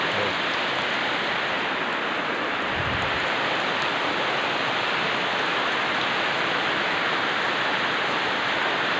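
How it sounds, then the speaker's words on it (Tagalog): Heavy rain pours down outdoors over farm fields, a dense, steady, loud hiss that never lets up, with a brief low rumble early on and no clear voices. "Malakas talaga ang ulan dito."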